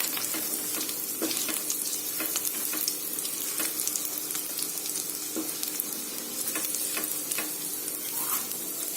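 Garlic and oregano frying in a pan, a steady soft sizzle with occasional sharper crackles and spoon clinks, continuous throughout with no talking.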